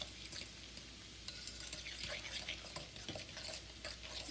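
A spoon stirs spinach and mushroom manicotti filling as Parmesan cheese is worked in, giving a soft, continuous wet scraping and squelching up close in a quiet kitchen.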